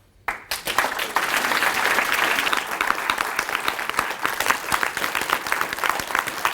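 A crowd at a pub science talk night bursts into loud clapping after a brief quiet start, with dense, vigorous applause sustained throughout and some cheering mixed in.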